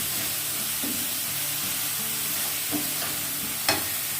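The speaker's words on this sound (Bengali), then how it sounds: "পেঁয়াজটা একটু কড়া করে ভাজা হলে এটা গলে যায় সুন্দর, গ্রেভিটা বেশ থকথকে হবে।" Onion paste frying in a pan for rohu fish kalia, a steady close hissing sizzle with a few faint stirring knocks and no voices.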